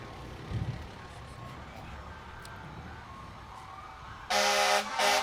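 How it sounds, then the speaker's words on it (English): A big fire truck rolls by in a small-town Riverfest parade in Monticello, its horn blasting loud and sustained twice near the end after a stretch of crowd murmur and street noise. "And now we've got a big fire truck."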